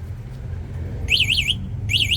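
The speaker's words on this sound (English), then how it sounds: "Oh, there's the alarm." An e-bike battery alarm sounds in two bursts of a high, warbling electronic tone, loud and close, above a low rumbling background.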